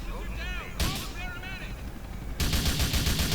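Gunfire in the video game GTA Vice City, sharp bursts of rapid shots separated by a short lull and ending in a dense continuous volley, loud and close.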